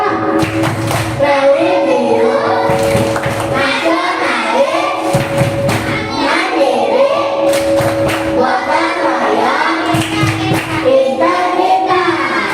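A classroom group of children performs a rhythmic clap chant, repeated bursts of hand claps and thumps in a steady pattern, loud and close, with young voices chanting along over a steady room tone.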